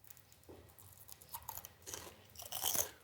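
Crunching bites into a puffed pickerel skin chip with onion dip at a Vancouver restaurant, several close, crisp crunches building louder over a few seconds, no talk.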